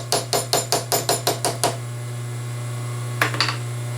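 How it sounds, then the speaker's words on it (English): A metal part is hammered down into a mill vise with eight quick, sharp metallic blows in steady rhythm, followed by silence under a steady machine hum and then two or three lighter taps. "So let's get the part hammered down."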